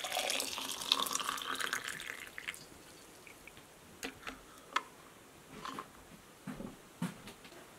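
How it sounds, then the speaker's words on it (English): Water running into a container for tea at a wilderness camp, a steady pour at first that tapers off, followed by scattered drips and small knocks, close and alone without talk. "We're gonna get water in here."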